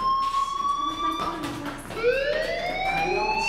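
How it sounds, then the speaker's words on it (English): A fire alarm in the Life Is Strange game, a continuous electronic siren-like tone sweeping and rising in pitch, loud and steady with a brief dip before rising again, heard alone without voices. "Hey, do you hear that fire alarm?"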